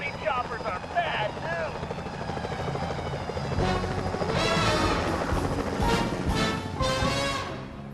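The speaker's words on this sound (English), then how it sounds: "Those security choppers are bad" Security helicopters in the video game Sly Cooper: Thieves in Time, a loud continuous rotor thrum and whine that swells and passes close, mixed with game music and effects, with a person talking over it.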